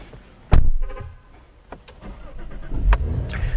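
A 2022 Cadillac CT4-V Blackwing starts with a sharp crank and catch, followed by a brief clatter and a low idle that swells toward the end, with a few clicks and thumps in between.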